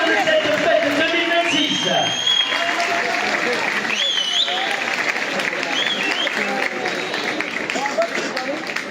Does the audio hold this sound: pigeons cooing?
no